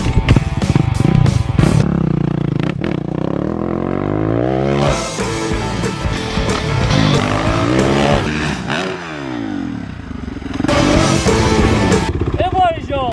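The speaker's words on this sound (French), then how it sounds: "Aujourd'hui les gens, on teste le moto freestyle." A freestyle motocross motorcycle revs hard in loud, rising and falling bursts, its engine whining up through repeated throttle blips and passes. People talk and call out over and between the engine noise.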